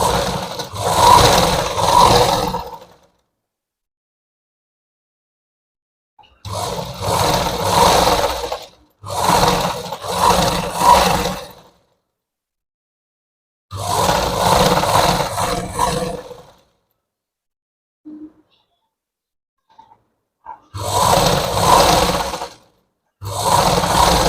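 An electric sewing machine stitches a blouse lining in repeated bursts of whirring motor and needle clatter, each run lasting a second or a few seconds, with silent pauses between them and no talk.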